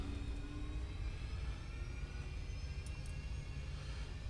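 Boeing 737-800 jet engines spooling toward takeoff thrust, heard from the cockpit as a steady broadband roar with a low rumble and faint high whine, constant and moderately loud throughout.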